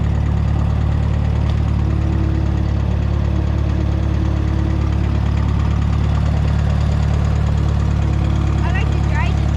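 A Minneapolis-Moline A4T tractor engine runs loudly and steadily at close range, a continuous low rumble in a yard with voices talking over it.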